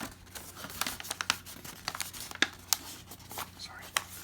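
Paper being folded backwards while making a number cube, giving a run of crisp crinkles and creases up close, with quiet talk in the room.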